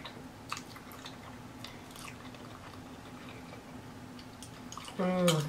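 Someone eating a huge turkey leg coated in cheese and hot Cheetos, with soft, wet chewing and bites close to the mic over a low steady hum, then a brief louder voice at the end.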